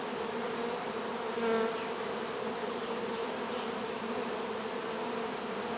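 A steady swarm of honeybees drones as they fly in and out of a beehive in a bee yard. The hum is close and continuous, with one bee briefly buzzing louder as it passes nearby.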